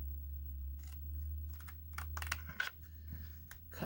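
Scissors snipping through paper card while making a fall and Halloween tea and treat holder, several crisp close cuts in irregular bursts over a low steady hum, with no talking.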